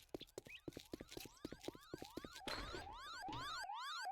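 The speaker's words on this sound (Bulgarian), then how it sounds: "Може би ти се повърти заради алармата." Wailing alarm siren in the survival video game 7 Days to Die, rising and falling sweeps that start among sharp clicks and then sound loud and continuous, with no talk.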